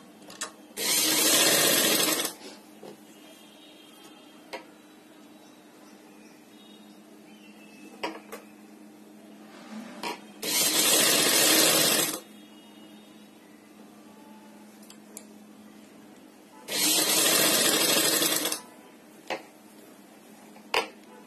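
A sewing machine stitching a seam in a suit lining, heard as three loud bursts of rapid stitching, each about two seconds long, separated by quiet pauses with faint clicks and handling sounds.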